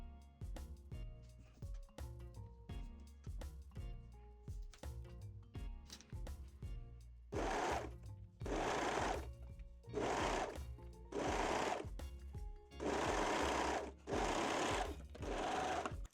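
Short, faint stops and starts of a sewing machine sewing the back center seam of mesh-back Brazilian panties, followed by several louder, longer runs of stitching with brief pauses between them.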